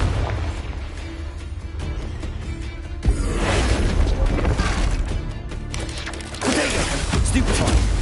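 Confringo explosive spell blasts in Hogwarts Legacy, a sudden booming burst at about three seconds followed by crackling debris and another surge near six seconds, loud and close.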